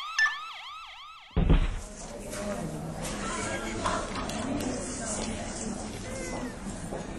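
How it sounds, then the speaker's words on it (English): An ambulance siren wails in rising and falling sweeps, then is cut off by a loud thump, followed by busy background noise and voices. "Here come the ambulance"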